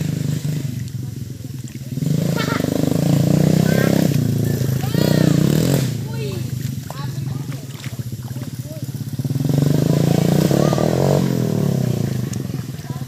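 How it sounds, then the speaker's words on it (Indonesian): A motorcycle engine with a sticking throttle runs and revs loudly in rising and falling swells up close, while people talk over it. "ini motornya si bocil menyala ya teman-teman, karena ini seret teman-teman gasnya"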